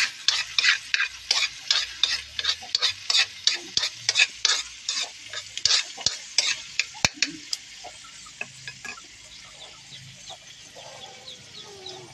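Eggs cooking in a pan with repeated clattering stirs and a light sizzle, about a dozen rhythmic scraping strokes that then fade into a steadier crackle, with a chicken clucking faintly in the background.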